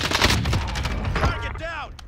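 Gunshots in Call of Duty Warzone, with a dense burst of close gunfire filling a short moment while a voice speaks over it.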